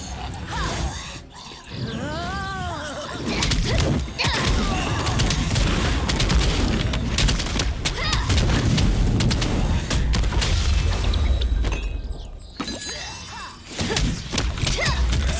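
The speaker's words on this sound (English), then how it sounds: "Explosion!" Heavy booming explosions and crashing impacts roll through a chaotic battle in Lost Ark, loud and sustained with thuds and shattering debris, while a voice cries out briefly near the start.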